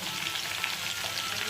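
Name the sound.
stirring drumstick flowers with salt and turmeric in pan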